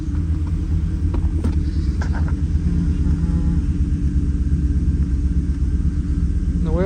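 A 2018 Chevrolet Silverado engine idles with a cylinder misfire, a loud, continuous low rumble with an uneven, lumpy throb, heard close with no talking over it.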